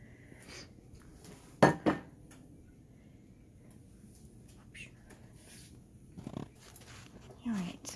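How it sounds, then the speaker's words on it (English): Meat is stirred in a pot on the stove, heard as a couple of clear metallic clanks of the spoon against the pot followed by softer scraping and clinks, with sparse talk in between. "we're going to give that a good stir"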